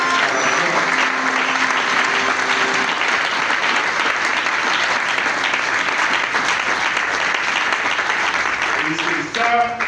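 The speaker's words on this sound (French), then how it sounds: "J'aimerais l'applaudir pour l'effort qu'elle a fourni." Congregation applauding at a funeral service, a sustained wash of clapping that stays loud and even throughout, with a faint voice and tones underneath before it tapers at the very end.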